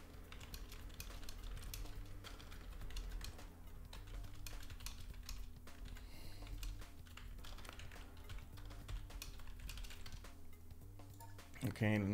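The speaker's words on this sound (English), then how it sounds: "You can hear me typing over it" Rapid, steady clacking on a computer keyboard runs throughout, moderately quiet over a constant low hum and background game tones, ending in a short louder burst of sound.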